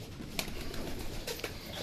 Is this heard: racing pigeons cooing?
yes